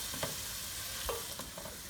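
Red pepper flakes being stirred into onions frying in a pot for tomato soup: a steady soft sizzle with a few light scraping strokes of a spoon, close and fairly quiet, with no talking.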